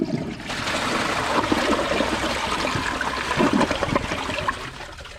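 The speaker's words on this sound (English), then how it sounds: "here's the flush on an overfilled tank using the full flush" A 2020 Kohler Wellworth Class 5 dual-flush toilet does a full flush on an overfilled tank: a loud, steady rush of swirling water that drains and trickles for several seconds, close up, with no talking.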